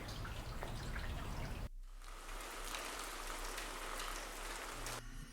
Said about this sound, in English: now you can see we've got lots and lots of different sound effects for rain.